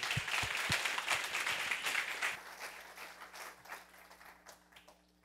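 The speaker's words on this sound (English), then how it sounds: "So please, let's give a warm round of applause" An audience at a physics colloquium claps for the speaker, a soft, distant-sounding round of applause that is fullest at the start and gradually thins and fades away.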